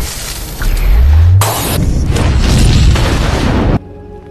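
A warehouse blows up in an action film scene, with a loud deep boom and rushing roar that swells and rumbles for about three seconds before cutting off abruptly into quiet.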